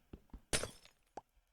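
A glass block breaking in a block-building survival video game: a few soft taps followed by a short crisp shattering burst and a final clink, quiet and close.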